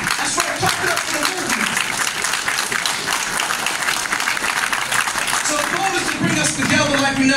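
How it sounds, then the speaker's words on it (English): An audience at a gun violence emergency summit in a church hall breaks into sustained applause, a dense, steady wash of many hands clapping that carries on for several seconds with a few voices mixed in. "That's right, clap it up for the movement."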